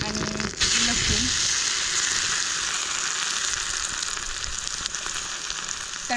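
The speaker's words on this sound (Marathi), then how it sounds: "तेल चांगलं गरम झालंय. मोहरी टाकून घ्यायची, जिरं आणि लसूण." Mustard seeds, cumin and garlic sizzle in hot oil, a bright crackling fry with a few popping clicks near the start, close and continuous throughout.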